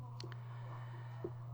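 A single Enter key is pressed on a computer keyboard while drafting in CAD software, giving a faint, brief click in a quiet room. A softer tap comes just before it.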